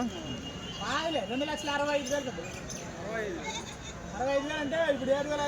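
Several goats at the Kadiri livestock market bleat in a run of wavering calls, some overlapping, fairly close and loud, with people talking throughout.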